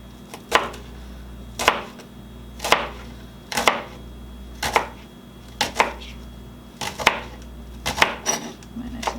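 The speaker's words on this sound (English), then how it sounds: "Nice loud chopping." Leeks being chopped into small rounds with a knife on a board, a steady series of about fifteen crisp, loud thunks in a regular rhythm, with no talking.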